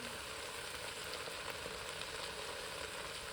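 Onions slowly roasting in a pot, a steady, even sizzle and crackle of frying filling the whole stretch with no talk, close and constant.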